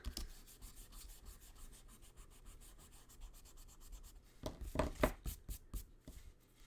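A rubber eraser scrubs out pencil marks on a paper card, quick back-and-forth rubbing strokes close by, softer at first and then a louder burst of scrubbing toward the end.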